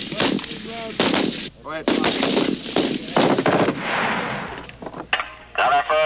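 Pistol fire at a Marine Corps recruit depot qualification range in the 1980s, many loud overlapping shots cracking in irregular bursts from several shooters, with a brief spoken command between them.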